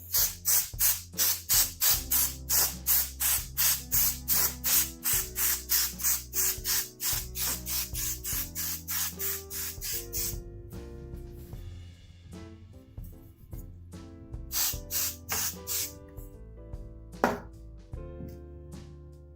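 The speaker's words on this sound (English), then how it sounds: "it's kind of running out of the dust spray" Compressed air dust spray blasts in quick repeated bursts while cleaning a Capcom arcade board, a rapid hissing rhythm that slows and thins out as the can runs low, then a few last weak puffs and clicks.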